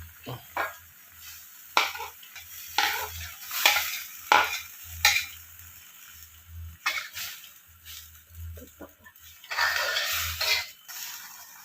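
Minced spice paste ingredients for Aceh noodles frying and being stirred in a pan, with sizzling broken by repeated scraping strokes from a utensil in irregular bursts, close and fairly loud.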